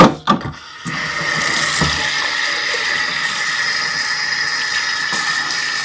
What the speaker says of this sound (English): I could show you, but you know what it looks like to rinse.